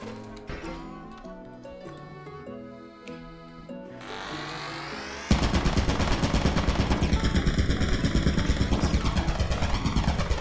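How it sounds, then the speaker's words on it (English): Turrets in Lethal Company with the Turret Hell mod unleash rapid, continuous machine-gun fire, a dense rattling burst that takes over abruptly after a quieter musical passage and keeps hammering steadily to the end. "This mod makes turrets go crazy whenever you pull the apparatus."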